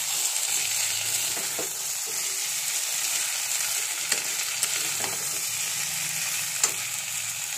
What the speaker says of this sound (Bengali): একটু ভেজে নিই।